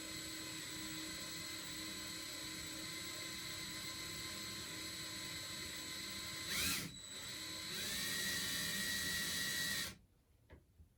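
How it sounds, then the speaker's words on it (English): A drill runs steadily into a small part in a shop, a continuous whining motor drone held for nearly ten seconds with a brief surge near the end before it stops, no talking. "We're going to start drilling."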